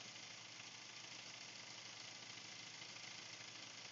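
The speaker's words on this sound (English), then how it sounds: "Here on engine running test. Engine is running." A car engine idles during an engine running test with a diagnostic scanner connected. It makes a faint, steady, low hum and mild vibration with a slight rhythmic knock throughout, and nobody speaks.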